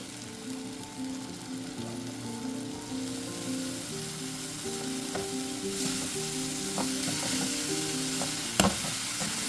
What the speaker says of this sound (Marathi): आता यामध्ये घालूया ही मेथी